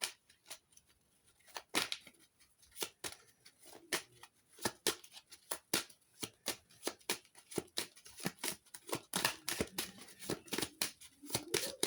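Tarot cards shuffled and drawn by hand in a quiet room, producing a rapid run of crisp slaps and riffles that grows busier toward the end, close and fairly loud.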